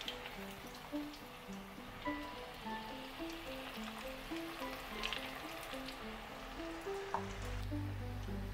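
Onion bhajji fritters fry in hot oil in a kadai, a soft continuous bubbling sizzle under light background music, with faint crackles throughout.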